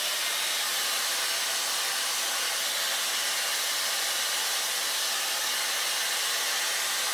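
An imitation Dyson hair dryer blows with a constant, loud whooshing hiss that stays even throughout, close by and with no talking.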